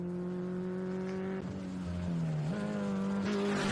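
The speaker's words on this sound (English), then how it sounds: "The Gluski's coming through, the juniors, the non-turbo Subaru" A junior non-turbo Subaru rally car passes on a Queensland rally stage, its engine note droning steadily then dipping and rising with a gear change as it goes by fairly close, with no commentary over it.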